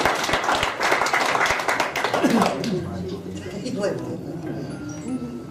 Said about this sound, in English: A round of applause for Henry Simmons.